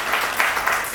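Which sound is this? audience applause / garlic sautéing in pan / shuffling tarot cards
audience applause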